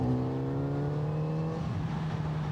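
A Kawasaki Z900RS 2026 model motorcycle pulls hard in fourth gear from about 35 to 50, its engine note rising steadily with a strong, close, sustained drone and no talk over it.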